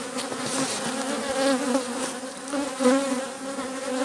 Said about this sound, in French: il y a un petit frelon